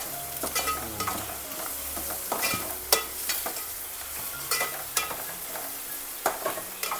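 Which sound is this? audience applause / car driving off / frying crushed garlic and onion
frying crushed garlic and onion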